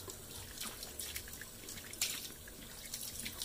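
Running water rinsing soap lather off something: a soft, steady trickle with scattered drips and splashes, quiet and close, without talk.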